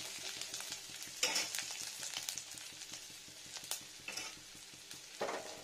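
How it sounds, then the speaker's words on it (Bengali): Ginger frying in a pan for a cabbage dish, with a steady low sizzle and several scraping stirs of a spatula, fairly quiet and close. "আদাটা আবার খুব সুন্দর করে নাড়া দিয়ে নেবো আদাটাকে"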